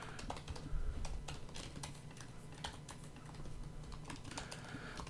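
Steady typing on a computer keyboard, a dense run of quick, close key clicks with uneven rhythm and a few louder strokes, heard alone without speech.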